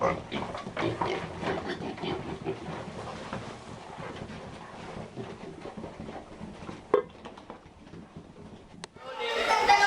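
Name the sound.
pigs grunting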